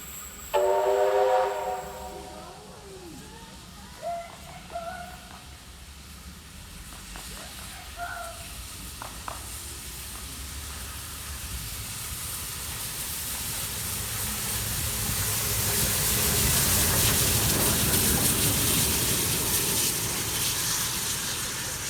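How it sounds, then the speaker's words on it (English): Steam locomotive 3801 heading for Sydney passes Campsie, a whistle blast opening the approach before a rising, rumbling roar of engine and carriages builds loud and close toward the end. "3801 is here at Campsie on Thursday, March 11th, 2021, heading for Sydney for its long-awaited relaunch weekend."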